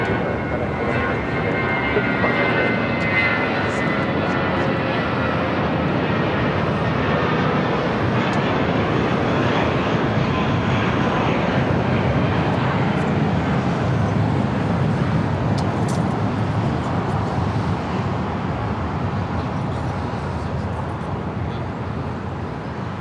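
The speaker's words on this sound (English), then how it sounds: "That was United Airlines flight 1185 heading to Cabo in that A320" A United Airlines Airbus A320 takes off from LAX, heard as a loud, sustained jet roar that stays steady and broadband for over twenty seconds, thinning slightly toward the end.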